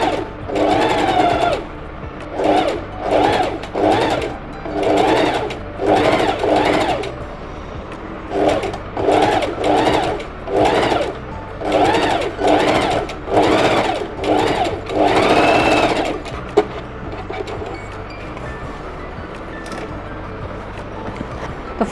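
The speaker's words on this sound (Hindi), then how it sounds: "तो चलिए लगा लेते हैं ये वाली स्टिच। बहुत तसल्ली से स्टिच लगानी है अगर आप बिगनर्स हैं।" A sewing machine stitches a round neckline on a garment in short, steady bursts of whirring with brief pauses between runs, close and clear, then falls quiet near the end.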